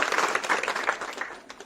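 Loud crowd applause for a team at a village gathering, dense continuous clapping that slowly eases off over a short stretch.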